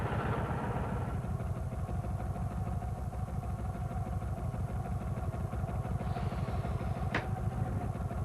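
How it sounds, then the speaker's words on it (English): A Kawasaki Vulcan 1500 Classic with a big V-twin engine idles with a deep, steady, loping throb and a brief metallic clink near the end. "The new Kawasaki Vulcan 1500 Classic, with the biggest V-twin ever to hit the asphalt."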